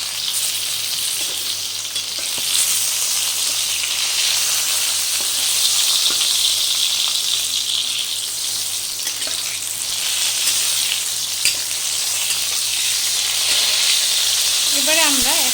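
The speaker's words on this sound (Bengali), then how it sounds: "এরকম হালকা লালচে লালচে করে পটলগুলোকে ভাজা হবে" Pointed gourd (potol) shallow-fries in oil in a pan with a loud, steady sizzling hiss that runs without a break throughout. A voice comes through faintly under the frying.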